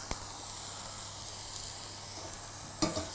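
Mushrooms sizzle steadily in a very hot pan, an even hiss throughout with a couple of sharp clicks from utensils, close and fairly quiet.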